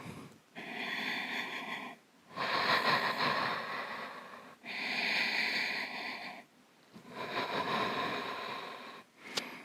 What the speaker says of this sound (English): Full breathing in and out.